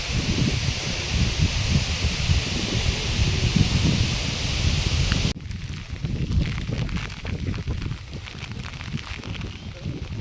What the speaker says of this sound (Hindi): अब बारिश तेज हो गई।